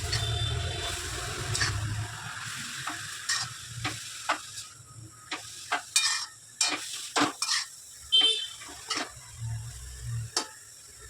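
Grated carrots are sautéed in ghee for carrot halwa with intermittent scraping and clicking strokes of a spoon against the pan over a low sizzle, the strokes coming in irregular bursts.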